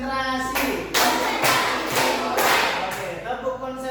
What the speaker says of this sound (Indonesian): Oke, tepuk konsentrasi.